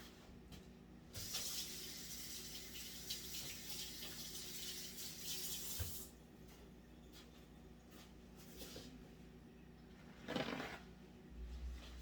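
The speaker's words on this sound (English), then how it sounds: "Now I'm going to wash my hands." Tap water runs steadily into a kitchen sink during hand washing, a faint hiss with a few splashes and brief clatters, no talking.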